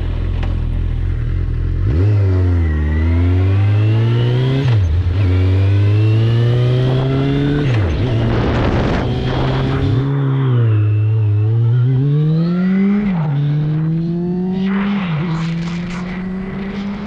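A Suzuki GSX650F motorcycle, ridden just after its fuel pump was cleaned, climbs through the gears in loud close revs with several pitch rises and dips between shifts, plus rushing wind noise.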